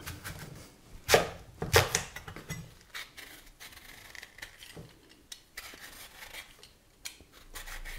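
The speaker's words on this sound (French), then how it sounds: "On coupe la patate douce en morceaux." A knife chops peeled sweet potato into chunks on a cutting board in a home kitchen: a few sharp, separate cuts stand out near the start, followed by quieter scraping and rubbing, with no talking.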